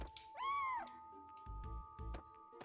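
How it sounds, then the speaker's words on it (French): A single rising-and-falling meow from a cat in the video game Chrono Cross, followed by soft footstep-like thuds over a steady background tone. "Petit chat."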